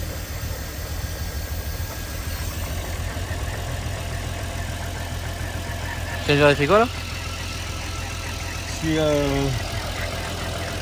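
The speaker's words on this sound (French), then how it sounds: "ce qui fait du bruit c'est les déphaseurs et la chaîne de distribution" A car engine idles with a steady mechanical rattle and ticking from the top end, coming from the cam phasers and timing chain, while people talk over it nearby.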